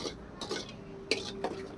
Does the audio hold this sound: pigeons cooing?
no